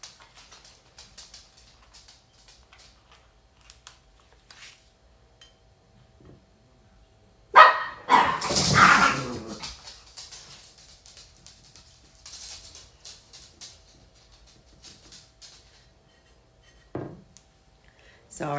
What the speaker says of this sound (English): Sorry, my dogs must have seen their shadow.